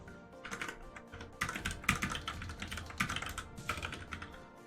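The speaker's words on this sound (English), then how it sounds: "I don't know why I'm typing this out." Rapid, irregular clatter of keys on a computer keyboard, close and steady with bursts of faster typing, no voices.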